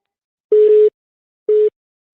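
A phone line tone after a dropped call sounds as clean, steady beeps, a double pulse then a single one, loud and alone against silence.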